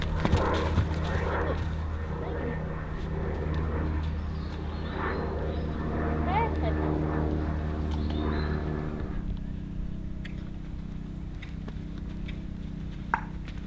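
Two horses trot at liberty in an arena, their hooves clip-clopping in a loose rhythm against a low background hum, with a brief snort or whinny partway through.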